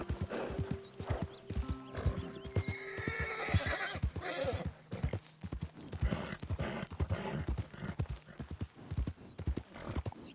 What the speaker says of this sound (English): my horse is tired as hell